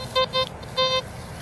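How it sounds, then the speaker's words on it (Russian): Metal detector sounding a clear tone over a buried coin in a field, three steady electronic beeps, two short and one longer, close and loud with no talking. "Со всех сторон хорошо сигналит."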